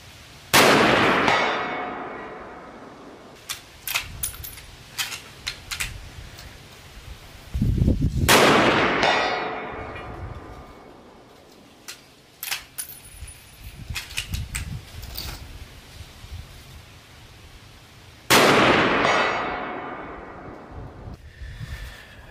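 Three loud rifle shots at an outdoor range with a target 190 yards away, each a sharp blast followed by a long rolling echo, evenly spaced with quiet clicks and handling noises between them.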